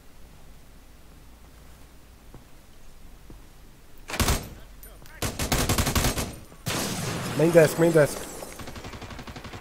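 Bursts of automatic gunfire from the America's Army: Proving Grounds video game in a hospital map, loud rapid volleys in several groups with short gaps, a brief voice speaking in the middle.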